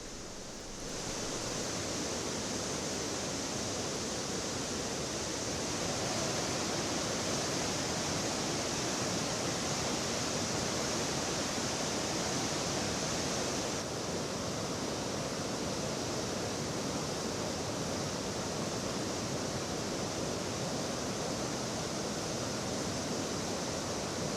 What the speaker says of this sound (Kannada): ಇನ್ನು ಕ್ರಸ್ಟ್ ಗೇಟ್ಗಳಿಂದ ರಿಲೀಸ್ ಆಗ್ತಾ ಇರುವಂತಹ ನೀರಿನ ಮೋಹಕ ದೃಶ್ಯಗಳನ್ನು ನೀವು ಗಮನಿಸ್ತಾ ಇದ್ದೀರಾ.